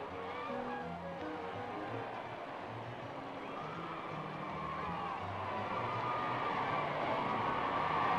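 A large crowd of around 10,000 people cheering and calling out for the Queen Mother at Wellington's Town Hall, a dense, continuous roar heard at a distance, with a few whoops over a low steady rumble.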